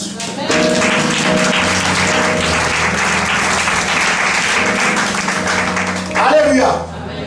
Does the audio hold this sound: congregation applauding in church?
yes